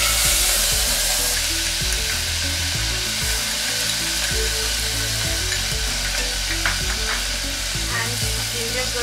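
Onion paste frying with cumin seeds and a cinnamon stick in hot oil, a loud, continuous close sizzle with a low rumbling undertone and occasional stirring scrapes throughout.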